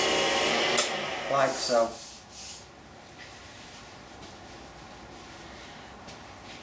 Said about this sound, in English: I'm just going to denib it.